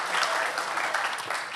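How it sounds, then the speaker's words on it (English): A city council meeting audience claps for the Marina High School softball team in a brief, steady burst of dense applause heard alone at moderate loudness. "you can all clap for Marina High School right now"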